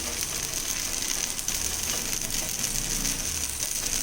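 Dosa frying in oil on a hot pan, giving a steady, even sizzle with a faint crackle that holds at a constant level for the whole stretch, with no talking.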